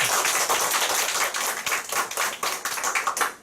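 An audience at a Nu Skin group meeting claps loudly and close by, a sharp, continuous burst of many hands that breaks into uneven, separate claps as it tapers off near the end.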